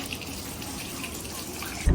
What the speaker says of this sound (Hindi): यहाँ पे एक टैप लगा हुआ है, वहां से हम वाटर फिल करेंगे